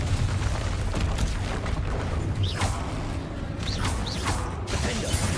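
Spell-casting effects from the Hogwarts Legacy video game, with Confringo fired amid other combat spells: a dense, continuous layer of mechanical clanks, creaks and booms, with short rising whooshing tones cutting through at intervals.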